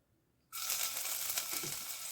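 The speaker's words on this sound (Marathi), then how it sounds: "गॅसवरती कढई ठेवली, त्याच्यात थोडंसं तेल घालते" After a brief quiet moment, a sudden loud sizzle bursts out and continues as a bright, crackling hiss of a little hot oil in a kadhai on a gas stove.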